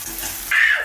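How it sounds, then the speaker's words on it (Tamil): Onions, green chillies, curry leaves and ginger sautéing in a pan for tomato chutney, a sudden sizzling hiss that starts midway and stays loud to the end. "வெங்காயத்தை நல்லா வதக்கணும்"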